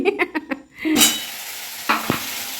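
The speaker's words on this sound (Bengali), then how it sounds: "এটা হচ্ছে আলুর চপের মশলা কষাচ্ছি" Spice mix for potato chops (aloo chop) fries in a pan. A few quick scraping taps of a spatula are followed by a burst of loud sizzling and stirring clatter.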